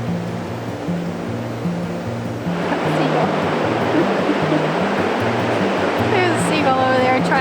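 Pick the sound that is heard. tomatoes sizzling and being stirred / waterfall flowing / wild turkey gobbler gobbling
waterfall flowing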